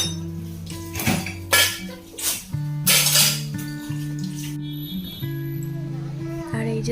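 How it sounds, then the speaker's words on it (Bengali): Dishes and utensils clink and clatter while being washed by hand at home, with several sharp metallic knocks over a steady hum and a voice heard faintly. "আমার যেগুলো ভীষণই দরকার সেই বাসনগুলো তো আমাকে ধুয়ে নিতেই হবে বলো"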